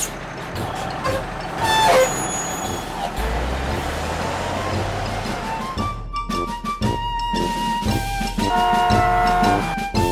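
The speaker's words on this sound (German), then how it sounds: "Ich schleppe kaputte und behinderte Autos ab." A cartoon tow truck hauling broken-down cars: a steady engine rumble with hissing air brakes and a series of high reversing beeps near the end, fairly loud with no talking.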